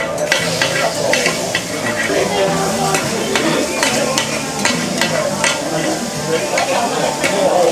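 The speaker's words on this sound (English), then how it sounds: "there's a big iron grill right at the table, and the staff here will help you grill your food" Food sizzling and being stirred on a big iron grill set into the table at a Tokyo restaurant, with a steady loud frying hiss close by and repeated sharp scrapes and clicks of utensils against the hot metal.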